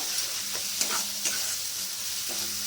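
Chili, turmeric and ground coriander sautéing in a little oil for moong dal with fish head, a steady close sizzle with a few soft spoon scrapes and taps, no voices.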